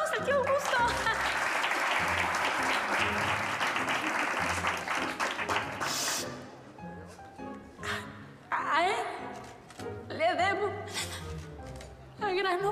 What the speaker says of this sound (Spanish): Aplausos al tío Augusto